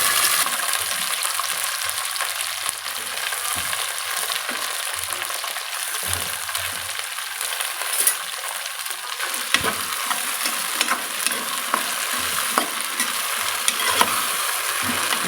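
Cluster beans with curry leaves, cumin and mustard seeds fry in hot tempering oil, a loud continuous sizzle with occasional spoon taps and stirring scrapes.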